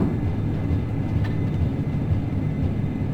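A Majestic Q400 turboprop airliner touches down in a flight simulator, a steady close rumble of engines and rolling wheels with a faint click in the middle.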